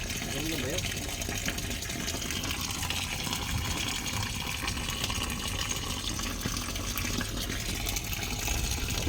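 Water drains from an engine crankcase, gushing and splashing continuously at close range, a dense rushing flow that holds constant throughout.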